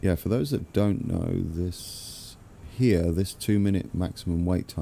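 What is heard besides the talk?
No everyday noise stands out behind the speech.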